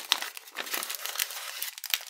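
A handmade paper surprise packet being torn open, a quick run of close, crisp crinkling and ripping paper with no talking.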